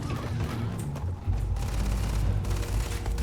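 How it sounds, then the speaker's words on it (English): Gunfire in the sci-fi video game Starfield: a run of rumbling, booming shots with heavy low-end thumps. The shots hold at a steady level for a few seconds, with no talk over them. "Go ahead, man. Shoot away."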